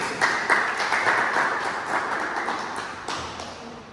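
A classroom of students applauds group 1 after their presentation in a micro-teaching informatics lesson, a steady spatter of hand claps lasting about four seconds that slowly fades, with no talking.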